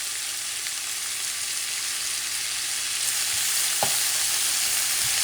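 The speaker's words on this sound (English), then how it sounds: "you create your sofrito for about a minute" Puerto Rican sofrito sautéing in oil in a pan for pork stew, a loud, even broadband sizzle that holds steady and swells slightly, with a single sharp utensil knock partway through and no talking.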